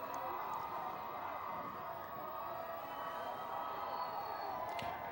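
A student crowd at a high school football game cheers and shouts continuously, a distant, steady roar of many voices with no break.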